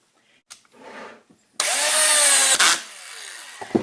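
A power drill bores a pocket hole with a Kreg Jig Jr into wood. After a few soft handling knocks comes a loud, steady whining drill burst of about a second, which cuts off, followed by quieter clatter.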